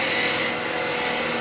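A drill bit bores a hole in wood in a woodturning workshop, a continuous high grinding rasp that stays steady and close for a moment, with no voices.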